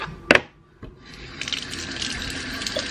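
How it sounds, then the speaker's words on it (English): A brush swirled and rinsed in soapy water in a sink, with a brief splash and clatter near the start, then a steady running, trickling wash of water close by. "Just wash the brush and just swirl it in here."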